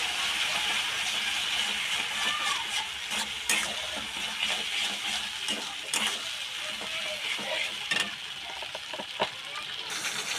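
A spice paste of ground cumin, coriander and dried chilli fries in a hot pan with a continuous bright hiss, punctuated by occasional scraping stirs and clinks, near and fairly loud.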